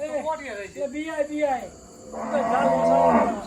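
A Kankrej cow on a cattle farm moos in a few drawn-out, wavering lows close by, followed by a rougher, louder bellow, with faint insect chirping in the background.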